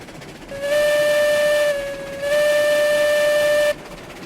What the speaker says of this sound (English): But it is fun to blow the whistle every now and then.